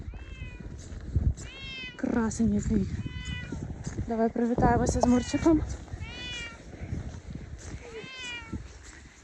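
A cat meows repeatedly and close by, in a series of rising and falling cries on a winter rural walk, with people talking warmly to it between and over the meows.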